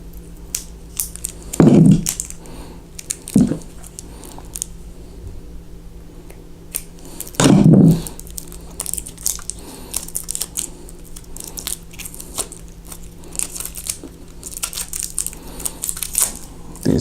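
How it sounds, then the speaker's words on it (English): A Kershaw Cryo knife slices open plastic packaging for an electronic earmuff set, giving two or three short, loud crunching cuts spaced apart against a steady low hum. "So now you take your Kershaw Cryo, all right? Go and cut this open."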